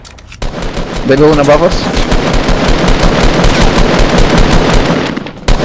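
Rapid automatic gunfire from a Fortnite match crackles steadily and loudly through the whole stretch, dense bursts stacked together, with players talking over it.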